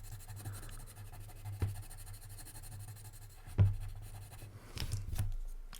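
Yellow colouring is laid into paper triangles on a spinning top with soft, quiet scratchy strokes across the paper. A few slightly louder scrapes stand out, and no one speaks.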